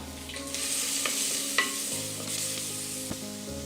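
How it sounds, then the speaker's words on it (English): Pounded ingredients and fenugreek seeds sizzle steadily in a hot pan for a Kerala fish curry, with occasional scrapes and clicks of stirring close up. "This has been frying for about a minute now."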